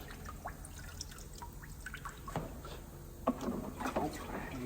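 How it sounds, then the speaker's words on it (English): Coolant dripping from a DAF CF85 truck engine during refilling in a workshop, with scattered small irregular drips and taps over a low steady hum. "If you hear dripping,"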